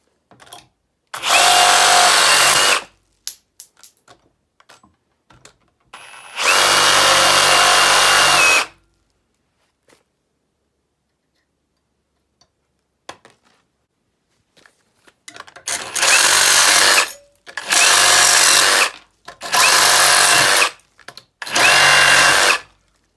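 A new Ryobi brushless reciprocating saw cuts in loud, close bursts. Two longer runs are followed by four shorter ones, with quiet gaps and small knocks in between.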